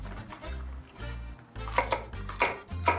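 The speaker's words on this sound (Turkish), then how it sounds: "Şimdi bunları bir doğrayalım." Peppers being chopped with a knife on a board to make lahmacun topping, a steady run of close, firm knocks about every half second that grow sharper and louder toward the end.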